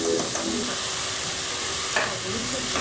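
Green chillies sauté in a pan for a home-cooked fish dish, giving a close, continuous sizzle and crackle with faint stirring scrapes and no talking.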